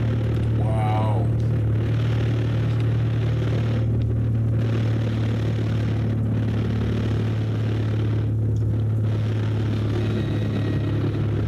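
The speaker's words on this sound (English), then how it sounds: "the plane can be heard stalling as he tries to pull the throttle up too much" A small plane's engine in crash footage: a continuous loud, droning engine hum with strong steady tones throughout, and wind-like noise over it.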